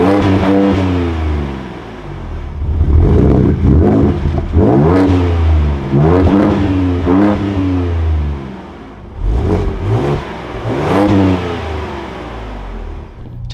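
A 2024 Ford Ranger Raptor fires up with a loud crank and catch, then settles into a rumbling idle broken by several sharp throttle blips that rise and fall, heard close with no talking.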